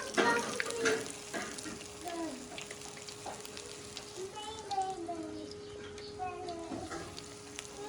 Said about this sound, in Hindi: मैं थोड़ा बड़े बड़े भल्ले डालूंगी, बिल्कुल हल्की आंच पे, ताकि अंदर से गल जाए